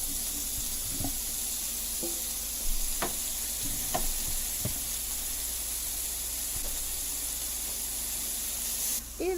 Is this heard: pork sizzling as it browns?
yes